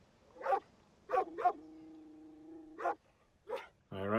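Sled dogs hauling a low carriage on a sledge across ice give several short, sharp barks and yips, then a long, steady whine, before another bark and a final loud burst.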